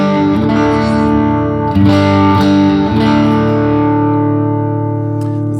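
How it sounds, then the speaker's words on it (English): Electric guitar, a Stratocaster in the second pickup position through an MXR Timmy overdrive pedal, rings out in loud, sustained chords with a warm, gritty edge, changing chord twice and letting the last one ring. "It's the sound of a Stratocaster in the second position."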